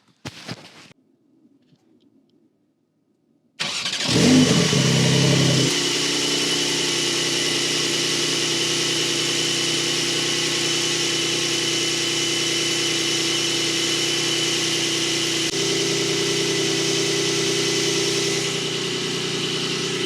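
A Porsche 911 with sport exhaust cold-starts after a few seconds of quiet, the engine catching with a loud flare before settling into a steady, high, even idle that holds close and loud to the end.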